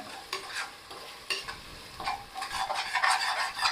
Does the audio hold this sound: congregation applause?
no